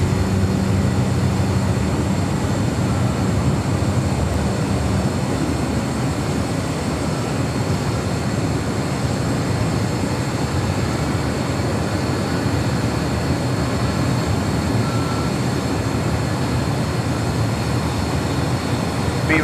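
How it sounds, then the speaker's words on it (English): A Lufthansa Airbus A340-300 arriving from Frankfurt at LAX, its engines giving a loud, steady broadband roar that holds throughout without talk. "Lufthansa A340-300."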